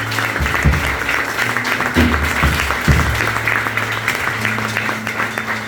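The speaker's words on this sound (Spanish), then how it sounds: "Denle otro aplauso al Señor" Church congregation applauding during a Spanish-language sermon, a steady wash of clapping from a crowd that runs throughout, with faint low hum and a few thumps beneath.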